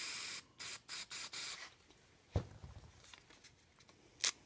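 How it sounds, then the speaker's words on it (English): A spray paint can puts out white paint in several short hissing bursts in quick succession, followed by a couple of faint clicks and taps, close and alone with no talk. "I'm going to spray a little bit of white here off on the side."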